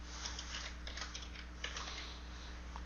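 Fingers typing a custom name on a computer keyboard, soft quick key clicks in an uneven rhythm over a steady low electrical hum, close and fairly quiet.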